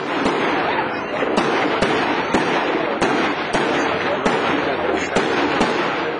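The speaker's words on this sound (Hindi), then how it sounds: "फेयर जोहान्सबर्ग में होने वाली 9 रोज़ा palm shopping and food festival की रंगारंग इफ्तिताई तकरीब के मौके पर आतिशबाजी का शानदार मुजाहिरा" Fireworks burst at the colourful opening ceremony of a nine-day shopping and food festival in Johannesburg, a dense, continuous crackle and roar punctuated by sharp pops about every half second.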